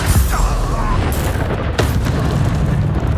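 A fiery blast from the Confringo spell in the Hogwarts Legacy video game: loud, dense rumbling booms with sharp bursts, close and continuous.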